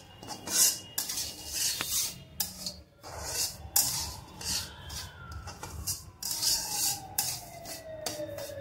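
Semolina being fried and stirred in ghee and refined oil in a pan, heard as close, repeated scraping and clinking of a utensil against the pan, with quiet sizzling beneath and no talk.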